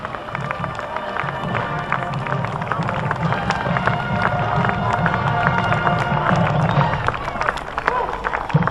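A parade crowd claps and cheers for Vietnam veterans marching past, a dense, sustained wash of applause and chatter with a commentator's voice running under it.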